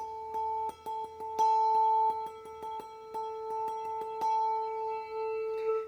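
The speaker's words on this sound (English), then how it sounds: "And then we can have a suspended mallet where the bell's raised." Rapid suspended-mallet taps on a raised handbell, quick repeated strikes over a steady sustained ringing tone, fast and even, at moderate volume.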